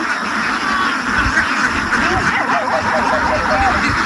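A large flock of about 1,200 ducks on a duck farm quacks constantly in a dense chorus, with a person talking over the noise.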